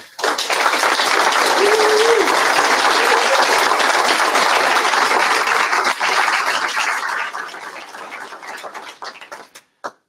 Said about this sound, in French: je voulais qu'on fasse un tonnerre d'applaudissements pour toutes les équipes produits